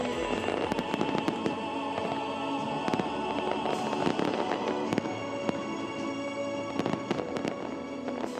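Fireworks burst continuously at an international pyromusical fireworks competition in Monaco, sharp cracks and pops over a dense, crackling roar, a steady barrage heard from a distance.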